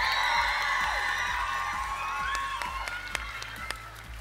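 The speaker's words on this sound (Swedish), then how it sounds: "En stor applåd!" Audience at a cosplay contest at an expo in Södertälje claps and cheers, with whoops and high shouts over a continuous bed of applause, moderately loud in a large hall.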